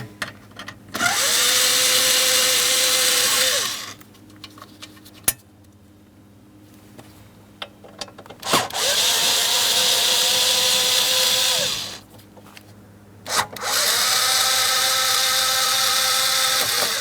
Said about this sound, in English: Let's start removing all of these screws and we can remove that panel.